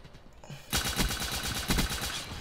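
Video game gunfire from a levelled-up gun fitted with a grip, starting after a short quiet moment and then pounding in a dense, loud, continuous rapid-fire burst.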